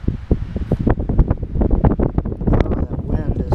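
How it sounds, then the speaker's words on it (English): Wind gusting outdoors beside a 2001 Ford F-250 7.3 diesel pickup during battery cable work, buffeting the microphone in loud, irregular rumbling bursts that run through the whole stretch. "that wind is something else"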